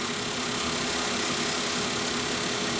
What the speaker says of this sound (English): This is the Royal Master Grinders Generation X CNC dental file grinder.